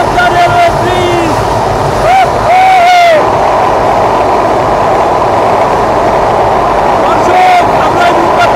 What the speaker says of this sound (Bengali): আমরা এই মুহূর্তে প্রবেশ করছি পদ্মা রেলওয়ে ব্রিজে